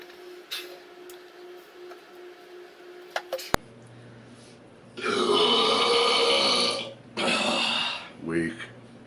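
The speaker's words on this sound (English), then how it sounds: "Let's see if I can get a really good burp going here" Several loud, drawn-out human burps from a man who boasts a talent for burping, two long sustained belches with a short gulp after, following a quieter stretch of talking.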